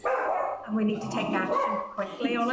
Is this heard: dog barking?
yes